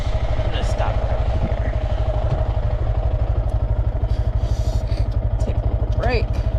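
A motorcycle engine idles after stopping on the street, a fast, even, loud chugging pulse that runs throughout, with a few faint clicks and a short high squeak near the end.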